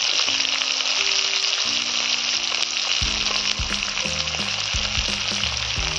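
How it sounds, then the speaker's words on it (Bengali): Onion, green chilli, tomato and crushed garlic fry together in oil, a continuous loud sizzle with a low tonal hum running underneath. "এইগুলো কষাচ্ছি, একসাথে কষানো হচ্ছে।"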